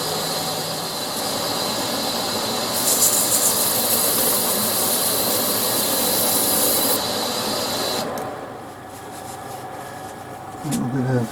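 A steady, loud whirring drone of a power sander sanding a cherry wood bowl, running continuously, with a brighter hissing stretch in the middle, then winding down.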